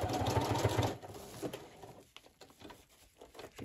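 A sewing machine runs a zigzag stitch on a fabric patch for a journal cover. A short, close burst of stitching lasts about a second, then stops and leaves faint handling rustles.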